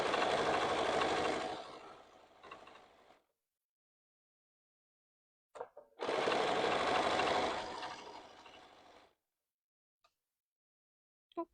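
A sewing machine stitches quilt binding a quarter inch from the edge in two steady bursts, each running about three seconds with a short pause between them, loud and close with no talking.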